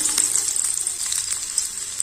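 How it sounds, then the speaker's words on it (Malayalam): Fenugreek seeds crackle and splutter in hot oil, a bright, close sizzle dotted with quick pops throughout, with no voices. "ഉലുവയിട്ട് ഒന്ന് പൊട്ടിക്കുക ചെയ്യുന്നു"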